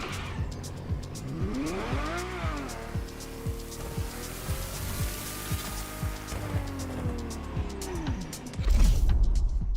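A Ferrari GTO driven in The Crew Motorfest revs and shifts through gears, engine pitch rising and falling with tire squeal, ending in a louder rush of acceleration.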